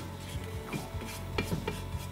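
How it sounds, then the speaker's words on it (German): Spatula scraping chopped garlic and ginger down the sides of a Thermomix bowl, a few soft, close rubbing and scraping strokes, quiet and brief with no talking. "Dann schiebe ich das mit dem Spatel nach unten"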